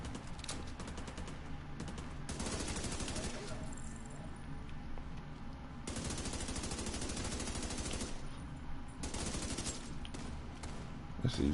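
Gunfire in the video game Destiny 2, with dense, rapid automatic bursts and single shots crackling loudly in near-continuous volleys, broken by brief gaps, over game sound.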